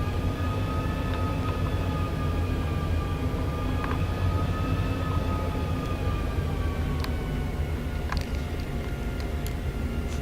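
An airliner taxiing in a flight simulator game, a steady engine drone with a low rumble and faint whining tones that slowly drift in pitch, continuous and fairly loud, with no voices.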